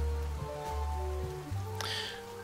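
Soft rain falls steadily in the video game Duck Detective: The Secret Salami, a faint hiss beneath sustained musical tones.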